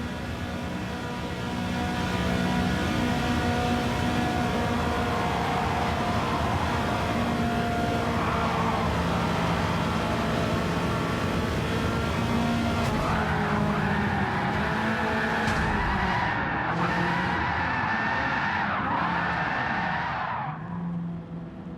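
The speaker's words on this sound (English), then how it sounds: "Now you're going to see an extra lap at Daytona because I had a massive crash out" Race car in Gran Turismo at Daytona, engine roaring steadily throughout, with rising tire squeals and scraping skids building in the second half as the car slides and crashes, loud and continuous.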